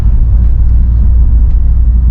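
Steady low drone of a 2003 Peugeot 307 SW automatic's 2.0-litre four-cylinder petrol engine on the move, a brief, even cabin rumble without voices.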